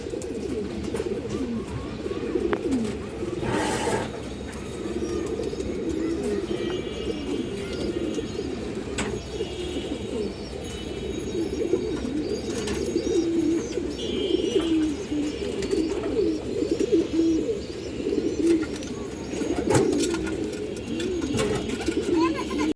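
Pigeons kept by a fancier, including lively silver and other coloured birds, coo in soft repeated low calls throughout, with someone talking over them at moderate level.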